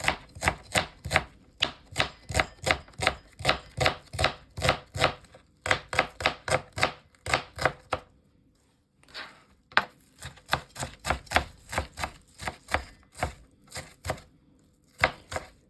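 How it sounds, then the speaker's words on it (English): A knife chopping onion on a board in quick, regular strokes, crisp and close, in bursts with a short pause midway and no talking. "Chop the onion for pieces"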